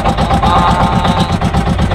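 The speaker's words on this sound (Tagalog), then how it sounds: "talagang kailangan mong itaas ang andar ng makina para mahulagod yung pangulong" A fishing boat's engine runs hard and loud at raised speed during net hauling at a payao, a steady throbbing roar with a rapid low pulse and no break.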